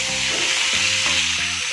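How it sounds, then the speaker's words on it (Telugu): Eggs hiss and crackle in hot oil seasoned with turmeric and salt, a steady dense sizzle filling the pan with a few soft stirring knocks underneath. "ఇప్పుడు స్టవ్ వెలిగించుకుని కొంచెం ఆయిల్ పెట్టుకుని ఆయిల్లో మనం కొంచెం పసుపు అలాగే కొంచెం సాల్ట్ యాడ్ చేసుకుని ఇప్పుడు ఈ ఎగ్స్ని ఇందులో వేసేసుకున్నాం"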